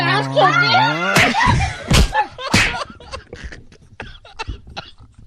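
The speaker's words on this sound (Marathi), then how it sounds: "खोकलू बेहाल झाली मी. आवाज बदलून खोकला येऊन राहिला." A woman gives several harsh, close coughs in quick bursts, followed by smaller rough sounds, with talking before them.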